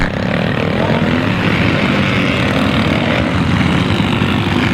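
A 1930s JAP 600cc methanol-burning engine on a classic scramble motorcycle makes a loud, dense, steady roar with no break, close and unchanging, at an outdoor motocross race.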